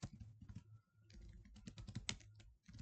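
Quick, light keystrokes tap on a computer keyboard in a short, faint burst of irregular typing with brief pauses, close and quiet.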